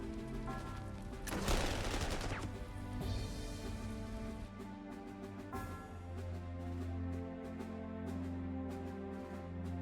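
Gunfire erupts in the WWII strategy game Panzer Corps 2 as units attack a machine-gun position, a dense burst of rapid shots followed by scattered crackling reports over a steady droning game soundtrack.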